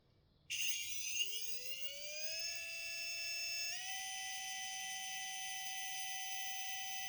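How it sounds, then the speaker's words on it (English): An 1800 kV RC motor spinning with no load and no pump attached, whining up in a rising tone as it spools up, then holding a steady high-pitched electric whine, fairly close and alone. "What you are hearing is the unloaded RPM of the motor"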